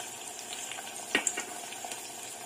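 Garlic and small shallots fry in hot oil for vathal kuzhambu, a steady low sizzle with a brief louder crackle burst as they hit the pan, no voices.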